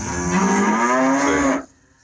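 A farm cow gives one long, loud, close moo lasting about a second and a half, then it cuts off to quiet.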